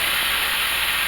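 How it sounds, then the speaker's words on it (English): Water hisses into steam on a hot griddle beside a cheeseburger slider with a softening bun, a loud, continuous close-up sizzle and hiss with no voices. "just to help it steam and to soften that bun"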